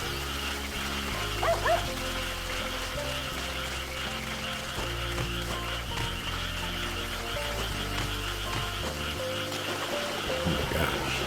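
Dog barking and yipping in the Sakuna: Of Rice and Ruin video game, short repeated barks over steady game music and ambient sounds.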